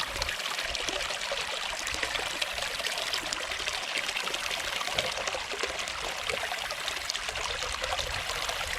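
Water runs steadily off a gold sluice box during a multi-sluice run, a constant soft rushing and trickling wash that holds at the same faint level throughout.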